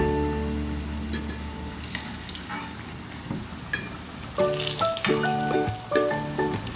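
Potatoes frying in hot oil for a mutton curry, a steady crackling sizzle with scraping and clinking of a utensil against the pan, growing busier toward the end.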